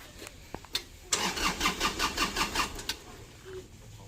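A diesel tractor engine with glow-plug preheating cranks with a rhythmic chugging churn, several quick turnover pulses, then catches into a rough idle, close by.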